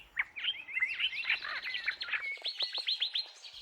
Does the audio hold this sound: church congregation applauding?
no